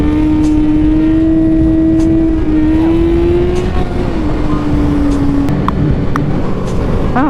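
A motorbike engine roars loud and steady in fourth gear during a wheelie, its pitch holding with slight shifts, close up, with rushing wind noise throughout.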